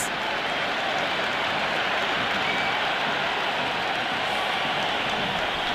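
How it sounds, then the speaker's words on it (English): A packed cricket stadium roars continuously at an IPL match between RCB and GT in Bengaluru after a six, a dense, distant wash of cheering that holds steady throughout. "There's a almost tangible fervour throughout the crowd at the moment."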